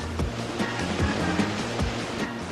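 Water rushes in a powerful, continuous surge across a wave-riding attraction at the Burj al Arab, a loud, dense roar with periodic slapping bursts.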